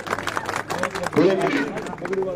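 Crowd at a village panchayat gathering claps to welcome cabinet minister Ranbir Singh Gangwa; scattered, uneven clapping sits beneath someone speaking loudly over it.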